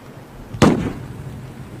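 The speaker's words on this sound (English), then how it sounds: "gunfire." A single sharp gunshot cracks out nearby during armed conflict in 1940s Palestine, a loud burst followed by a short fading echo against a low background.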